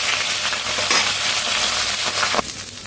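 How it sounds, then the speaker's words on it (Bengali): Rui fish frying in hot mustard oil, a close, continuous crackling sizzle that holds steady throughout, with a brief sharper burst near the end. "মাছগুলো আগে ভেজে নিই।"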